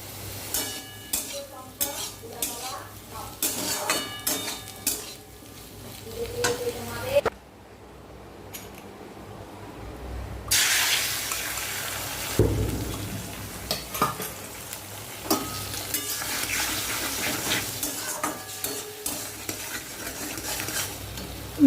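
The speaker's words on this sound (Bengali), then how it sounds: "আলু ভাজা," Potatoes frying in a pan at home, with soft sizzling under repeated scraping stirs and utensil clinks, a quiet stretch partway through, and a voice speaking at times.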